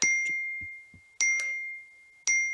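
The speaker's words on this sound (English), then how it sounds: "I'm sorry, there's notifications." A phone notification chimes three times in bright, bell-like dings, each ringing out and decaying, with short soft sounds between them.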